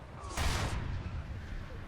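A single heavy cannon boom from a Chieftain Mk.3 tank in War Thunder bursts out and rumbles briefly, followed by a low continuous ambient rumble; fairly loud and close.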